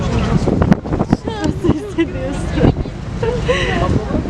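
Strong wind buffets the microphone on a ferry crossing the Bosphorus in Istanbul, gusting loudly and unevenly beneath close, chatty conversation and laughter.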